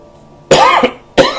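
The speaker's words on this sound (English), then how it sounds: "the more I talk, the more I cough" Two sharp, close coughs, the first longer and rougher, the second short, with quiet between them.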